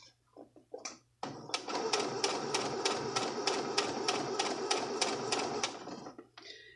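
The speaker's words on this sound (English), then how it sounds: "Remove your pins as you stitch down the coil." A sewing machine stitches down the coil of an invisible zipper in one steady run of rapid, evenly spaced needle strokes, close and fairly loud, after a few brief handling clicks.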